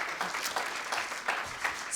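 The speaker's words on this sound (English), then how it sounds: "Applause for Aruba and for Marcia." Audience applause at a session on Indigenous leadership and water policy for climate action, a steady moderate clapping from a room of people, continuous and even with no voices over it.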